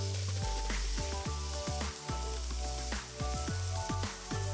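Finely chopped tomatoes hit a pan of ginger garlic paste for pav bhaji, giving a bright, continuous sizzle with spitting bursts, partly under tonal background music.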